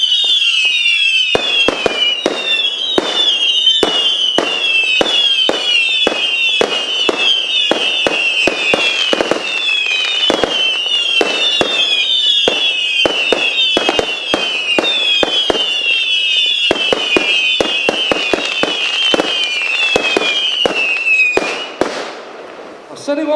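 Thunder King Brothers fireworks go off in a fast, dense barrage of sharp cracks and bangs over a continuous high crackle for around twenty seconds. The display then fades out and a voice comes in.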